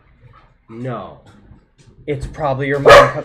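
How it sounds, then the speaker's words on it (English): A dog barks at people coming downstairs at home, sharp yaps mixed in with someone talking close by. "If they're coming downstairs, you don't gotta bark at them."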